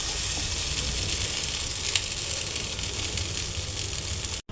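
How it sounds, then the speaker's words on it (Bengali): Spicy soybean chunks fry in a pan with a steady, close hiss and crackle of sizzling oil, continuous throughout with occasional faint stirring scrapes and no voices. "আমি আর 2 থেকে 3 মিনিট একটু ভেজে নেব"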